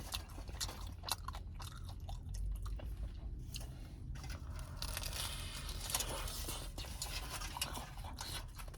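Close, quiet chewing of a Costco combo calzone with sausage, with soft crunches and wet squishy bites repeating steadily throughout.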